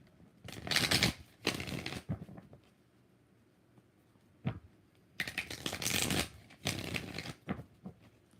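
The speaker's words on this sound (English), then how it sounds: "3 more shuffles." Tarot cards are riffled and shuffled in several close, crisp bursts of rapid flapping with short quiet pauses between them.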